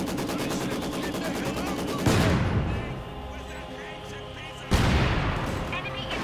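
Maxim and MG42 machine guns rattling in rapid bursts as mortars thump in Company of Heroes 2 combat, with two sharp blasts cutting through the steady chatter of fire.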